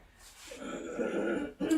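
A person clears their throat with a rough, gravelly rasp that swells over about a second, followed by a short second burst at the end.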